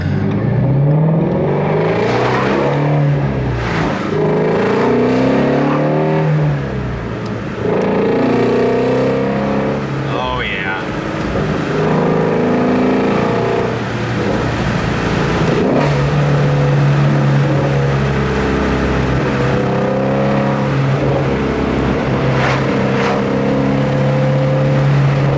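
A Shelby GT350R V8 under light acceleration gives a loud, close, continuous engine drone that rises and falls through gear changes, with a raspy exhaust burble throughout and no talking.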